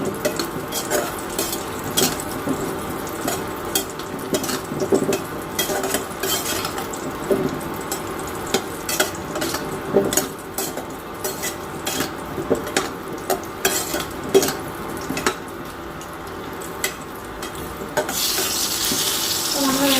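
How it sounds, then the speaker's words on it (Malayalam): White lemons frying in oil in a pan for pickle, stirred with a metal spoon that scrapes and clinks in a loose irregular rhythm over a soft constant sizzle, close and fairly loud. "ഇത് നമ്മൾ എണ്ണയിലൊക്കെ വറ്റി ഇങ്ങനെ ഉണ്ടാക്കുമ്പോൾ നല്ല ടേസ്റ്റും കൂടുതലുണ്ടാവും."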